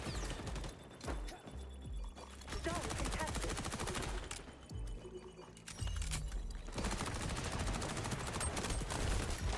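Dense, continuous automatic SMG gunfire in the online shooter XDefiant, loud and sustained across the whole stretch with brief dips, mixed with game effects and faint voices underneath.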